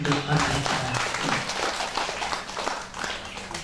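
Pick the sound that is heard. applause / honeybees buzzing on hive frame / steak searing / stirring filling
applause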